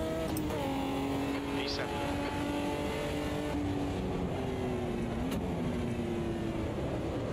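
A race car engine in the video game Automobilista 2 drones steadily and close, pitch rising through the gears with brief dips at each shift, under a voice talking.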